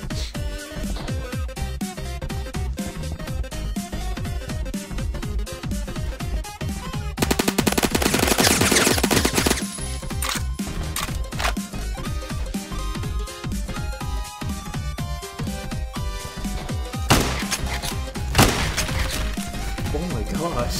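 Relentless automatic gunfire fills a Phantom Forces match, rapid loud bursts stacking almost continuously with a dense blast-heavy stretch midway and scattered heavier thumps later.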